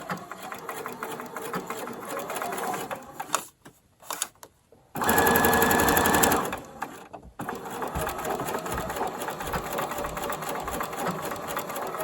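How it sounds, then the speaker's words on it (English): Sewing machine stitching a raglan thumbhole cuff, running in steady bursts with brief pauses and one louder, faster stretch midway, heard close and alone. "I'm going to sew from this notch to this notch"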